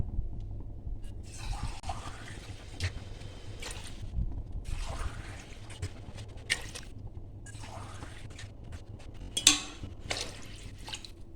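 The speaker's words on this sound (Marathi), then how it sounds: "हे साडेसहा पेले आपण ह्याच्यामध्ये घालून घेतलेले आहे पाणी" Water is poured into a cooking pot for a pulao in several separate bursts, each a soft splashing gush, with a sharp metallic clank near the end.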